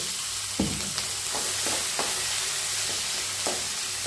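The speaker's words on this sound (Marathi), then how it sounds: "पहिल्यांदा थोडा कांदा भाजून घेऊयात" Chopped onion frying in a pan at the start of a simple dry mixed-vegetable dish: a steady close sizzle with occasional spoon scrapes, and no talking.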